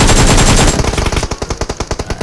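Video game gunfire rattles out in loud, rapid automatic bursts, first as a dense continuous stream and then as distinct evenly spaced shots in a steady rhythm, with no voices.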